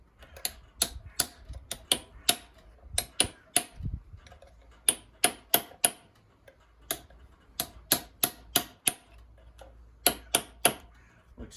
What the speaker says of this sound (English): with this big hammer and this flat screwdriver, that if I go tapping here